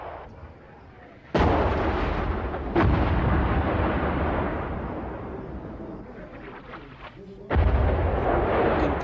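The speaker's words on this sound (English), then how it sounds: "Incoming shells falling harmlessly on the mountains" Artillery shells and mortar rounds burst on mountains near Dubrovnik, Croatia, in 1992: several heavy booms land one after another, each followed by a long rolling rumble that echoes off the slopes.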